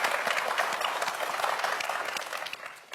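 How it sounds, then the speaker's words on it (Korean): A studio audience of parents and friends applauds the students after a televised quiz match, dense clapping close and loud that thins out slightly toward the end of three seconds. "멋진 승부를 보여준 학생들에게 다시 한번 큰 박수 부탁드립니다"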